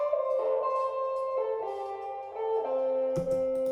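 A bright, high guitar line pitched up an octave plays on its own, sustained notes shifting in pitch, fairly steady in level with a sharper attack near the end.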